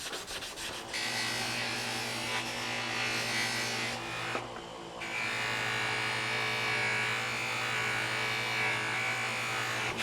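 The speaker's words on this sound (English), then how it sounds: "then I'll go to the buffing wheel and buff it with 2 different compounds" A buffing wheel polishes a part from a Stanley 19-400 miter vise with a steady, close whirring rub and motor hum, briefly dipping as the metal is pulled away, then resuming.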